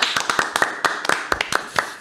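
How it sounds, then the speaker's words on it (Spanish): Hands clap from a small audience at a Spanish talk show, a quick, uneven burst of individual claps heard close and fairly sparse over two seconds. "Pepe Colubi, un fuerte aplauso."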